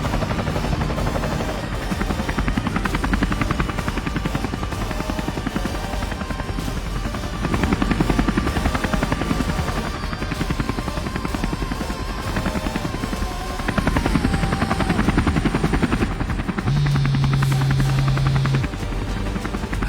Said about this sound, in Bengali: সেটাকে হেলিকপ্টার বলে চালিয়ে দিছে।